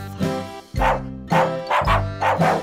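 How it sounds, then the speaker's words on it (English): A dog barks repeatedly in short, loud woofs, about five in a steady rhythm, set against a musical backing. "The dog goes woof."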